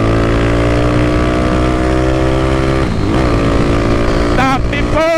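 A loud motorcycle engine held at steady high revs under acceleration, with a rising whine near the end and speech over it.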